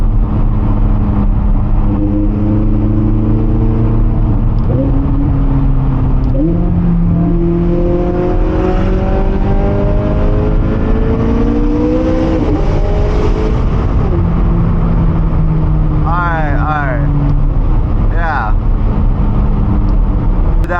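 A loud McLaren sports car engine drones steadily at night, then revs repeatedly with its pitch climbing and dropping through gear shifts, and a few sharp squeaks come near the end.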